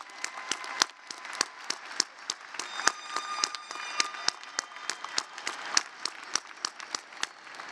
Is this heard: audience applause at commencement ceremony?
yes